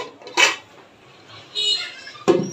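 Taro pieces tipped into a pot of spiced water and stirred for a taro and rohu fish curry: three short, loud clattering bursts of utensil against metal pot with quiet gaps between.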